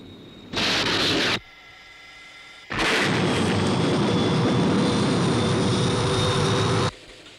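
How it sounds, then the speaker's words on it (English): A jet aircraft roaring past in a science-fiction television series, a loud broadband engine rush in two bursts, a short one and then a long sustained pass, close and without talk. "Paul, there's another aircraft."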